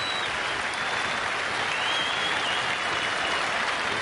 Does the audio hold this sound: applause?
yes